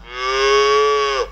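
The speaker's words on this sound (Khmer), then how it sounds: "សំឡេងគោ" A single recorded cow moo used as a Facebook Messenger sound clip, a sustained, steady bellow of about a second that swells and then drops off abruptly, heard alone and close with no talk.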